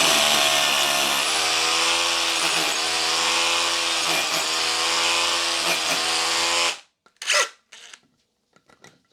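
A power drill bores deeper into concrete for a screw fixing, a loud, close, steady whine lasting several seconds with slight pitch dips, then cutting off into a few short clatters and knocks.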